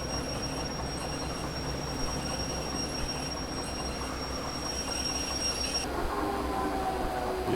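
A work train in the game Cargo Cult rolls along with a continuous heavy rumble, high thin wheel squeals running over it throughout, close and steady.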